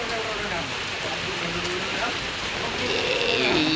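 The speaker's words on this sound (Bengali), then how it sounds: "এমন জোরে বৃষ্টিটা নামলো" Heavy rain pouring down and drumming on surfaces, a loud, dense, continuous wash that swells slightly toward the end, with a voice talking over it.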